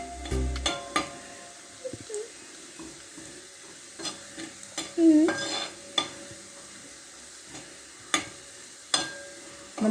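Small shallots frying and browning in a pan for a home-style papaya stir-fry, with a spoon stirring in intermittent scraping, clinking strokes over a soft, close sizzle and no talk.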